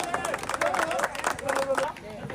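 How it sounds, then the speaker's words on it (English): Crowd of rescuers and onlookers clapping in a quake-damaged street in Mandalay as a survivor is pulled from rubble, scattered applause under a busy murmur of voices and a commentator's voice. "The sight of a survivor prompting applause."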